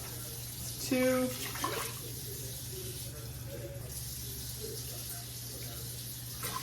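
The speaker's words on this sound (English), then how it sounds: "I'm adding 4 cups of cold water" Cold water is poured from a tap into a sprayed Instant Pot for mac and cheese, a steady rushing stream under a brief spoken word, running on alone after it.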